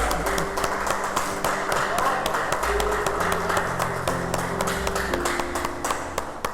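A church congregation claps in a quick, steady rhythm for several seconds, loud and close, with voices and sustained musical tones beneath the clapping.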